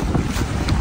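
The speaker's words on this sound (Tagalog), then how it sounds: "Ganda na hangin." Strong outdoor wind buffets the microphone in Greenland, a steady, loud roar with no talk over it.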